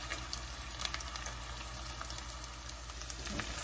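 Red and white onions fry in a pan, a soft steady sizzle with faint crackles and a few light clicks, quiet and continuous with no voices.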